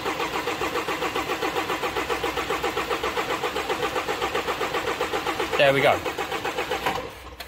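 A Jaguar Land Rover 2.0 Ingenium engine cranks over on the starter with a rapid, even rhythmic churn for several seconds before stopping, while someone speaks briefly near the end.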